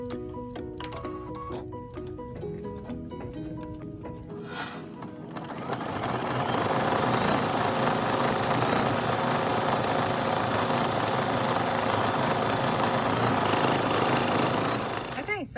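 A sewing machine stitches a heart appliqué onto fabric with contrasting turquoise thread, starting after a few seconds of tonal sound and then running as a loud, steady, buzzing drone close by until the end.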